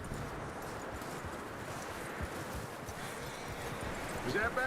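Horse hooves clip-clopping steadily in the Red Dead Redemption 2 video game, a continuous patter of steps over broadband ambient noise, holding at an even level.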